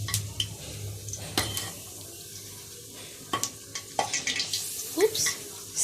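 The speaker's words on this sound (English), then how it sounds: "That oil is ready. So I'll just add in a few pieces." Pieces of homemade potato crisps sizzle in hot cooking oil with a soft steady hiss, punctuated by sharp clinks and scrapes of a utensil against the pan.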